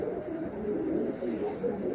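Rare Andhra and Madrasi breed pigeons in a loft in Nalpur, Howrah, cooing continuously in a soft, low, steady murmur close by, with no talk.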